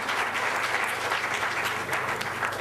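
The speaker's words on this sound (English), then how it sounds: "I think they deserve a round of applause." Audience applause at a quiz event, a full room clapping steadily and evenly throughout, close and unbroken, with no speech on top.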